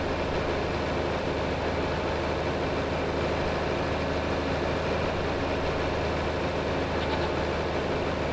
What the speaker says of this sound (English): the tractor seems to pull away a bit better